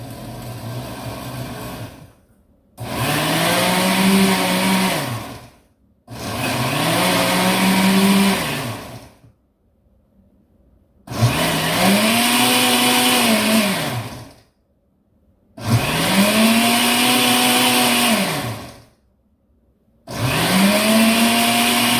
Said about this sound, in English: So once I have all that in the processor, I'll just mix it up.